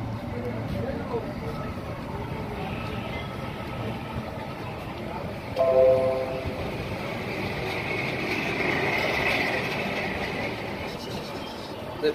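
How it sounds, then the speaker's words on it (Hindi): A Duronto Express train pulls out of Jolarpettai Junction with a continuous low rumble and rolling rail noise. A brief higher tone cuts in near the middle while people talk throughout. "अभी हमारा दुरंतो एक्सप्रेस जोलारपेट जंक्शन से निकल रही है"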